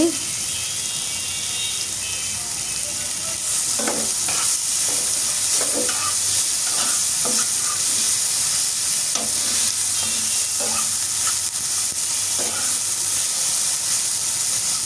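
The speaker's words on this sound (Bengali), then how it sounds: "খুব ভালোভাবে ভাজতে থাকবো মিডিয়াম টু লো আছে আমি ভেজে নিচ্ছি একটু আস্তে আস্তে করে ভেজে নিচ্ছি" Onions frying slowly on medium-low heat for a fish do-pyaza, a constant close hiss and sizzle broken by repeated scraping stirs of a spatula, loud and steady with no talking.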